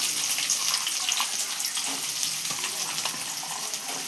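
Oil heating in a kadai on the stove while cooking a Tamil prawn dish, a steady hissing sizzle with faint crackles, fairly constant and close, with no talking.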